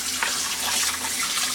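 Hot water runs from a kitchen tap over raw pork being washed, a steady close splashing stream with no talk over it.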